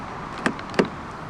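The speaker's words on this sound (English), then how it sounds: "Press this ribbed area to lock the car." Two quick mechanical clunks of a 2015 BMW 220i Gran Tourer's door locks engaging via keyless entry, close by, against a quiet outdoor background hiss.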